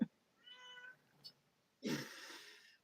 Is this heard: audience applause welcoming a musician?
no